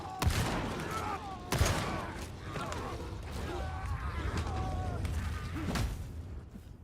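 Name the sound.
impact grenade explosions in the video game Darktide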